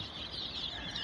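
A gamefowl rooster clucks outdoors in a brief, steady burst of mid-pitched fowl sound, fairly close and alone with no voices.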